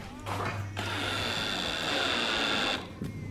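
A cordless drill drives a screw into a wall plug in a drilled hole, a steady whirring motor run of about two seconds, close and fairly loud, with a low hum before it and brief handling noise after.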